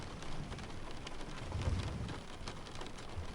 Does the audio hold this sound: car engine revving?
no